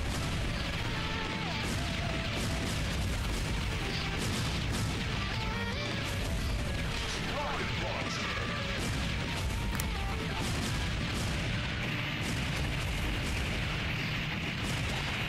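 Rocket launcher explosions in Metal Slug Awakening form a dense, nonstop barrage of crashing blasts and booms over a steady din of battle, staying loud throughout.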